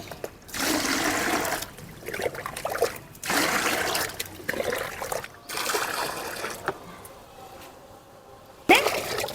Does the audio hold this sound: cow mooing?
no